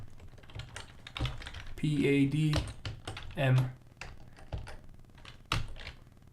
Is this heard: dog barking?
no